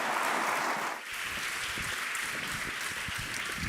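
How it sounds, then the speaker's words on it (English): An audience at a design award ceremony applauds the winners with sustained, dense clapping that fills the room, dipping briefly before carrying on at an even level. "round of applause to the winners"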